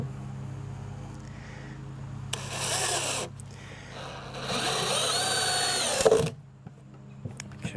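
A power drill drives screws into a wooden outdoor end table in two bursts of whirring, a shorter one then a longer sustained run that stops abruptly, close and fairly loud.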